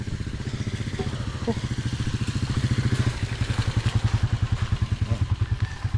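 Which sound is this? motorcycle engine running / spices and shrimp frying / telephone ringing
motorcycle engine running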